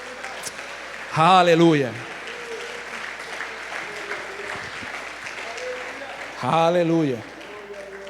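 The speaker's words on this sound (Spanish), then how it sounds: "Dale ese aplauso fuerte." A church congregation applauds during worship, a steady background of clapping broken twice by a loud voice calling out.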